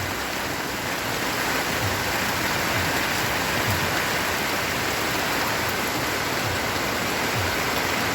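Heavy, steady rain pours down over a vegetable garden and thirsty trees, a dense unbroken hiss that stays loud and even throughout with no voices.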